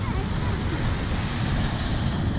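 Water waves washing at a shore, a continuous broadband rush with wind buffeting the microphone, loud and steady throughout with no clear voices.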